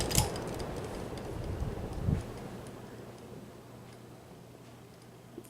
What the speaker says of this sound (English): the little ticks you're hearing out there is actually the Tiffany glass in that shade, just kind of moving around a little bit